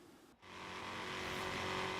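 A 1932 Ford De Luxe hot rod in Forza Horizon 3 starts off after a brief pause, its engine building into a loud, rising roar with a bright hissing rush as it speeds away.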